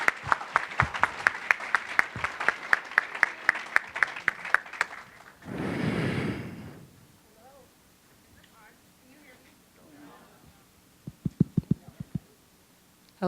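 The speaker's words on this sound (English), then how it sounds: "Let's give them a round of applause." Audience applause in a university lecture hall, dense clapping for about five seconds, then a rustling burst and quiet stage movement, with a few scattered claps near the end.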